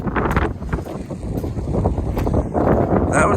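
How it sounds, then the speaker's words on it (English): Strong wind buffets the microphone in loud, continuous gusts, a rough low roar that swells and churns throughout. "It's very, very windy."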